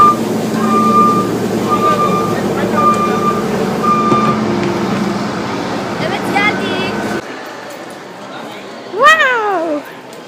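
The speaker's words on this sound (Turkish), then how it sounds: "şimdi otobüsümüz geliyor" A large bus pulls into a bus stop, rumbling close by with a steady engine drone and spaced warning beeps, then the engine cuts off and a voice briefly follows.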